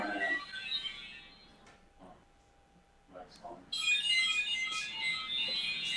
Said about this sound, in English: that was my mom's phone